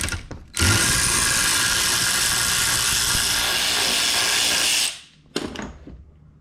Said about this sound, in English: Gotta love power tools.